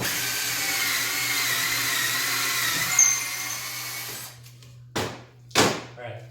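A power drill bores a hole through wood in a workshop, a steady loud whine running for about four seconds before cutting off, followed by two short bursts as the trigger is pulled again.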